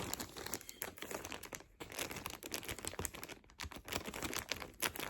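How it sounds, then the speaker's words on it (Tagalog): Toy packaging is cut open with scissors, giving continuous crinkling and crunching plastic with quick snips, close but fairly quiet, with no talking. "Ayan, talas ng gunting."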